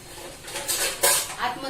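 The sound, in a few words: metal stand placed in idli cooker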